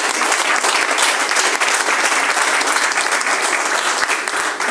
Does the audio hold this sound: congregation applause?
yes